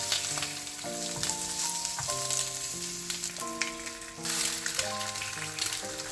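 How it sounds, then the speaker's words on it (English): Bacon frying in a pan and stirred with a wooden spoon, a steady crackling sizzle with soft scraping and background music throughout. "It was the first time I used a wooden spoon to fry bacon."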